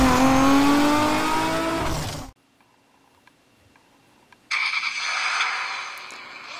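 BMW M3 engine in a drag racing video game revs hard and launches, loud for about two seconds, then near silence with faint ticks before the engine roars back in a high-pitched pull.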